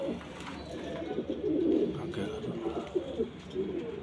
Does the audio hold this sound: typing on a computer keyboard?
no